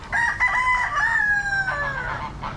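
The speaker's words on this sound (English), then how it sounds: "This rooster." A rooster crows once, loud and close, a long drawn-out call with a clear rising and falling tone, alone without talk.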